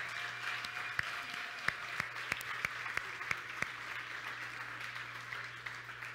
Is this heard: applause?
yes